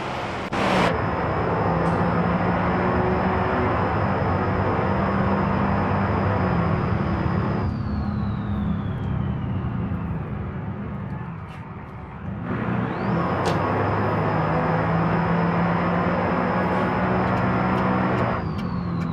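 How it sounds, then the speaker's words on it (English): In the BeamNG video game, a turbocharged bus engine drones steadily on a highway with a whining turbo tone that falls away as the engine eases off and returns as it builds again. "I'm just going to let you guys listen to the bus, see how things work."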